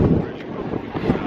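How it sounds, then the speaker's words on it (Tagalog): Strong wind on the seafront at Whitby, England, beside a rough sea buffets the microphone in loud, gusty low roars throughout the short stretch, with a voice speaking faintly underneath. "Kasi ano siya, mahangin."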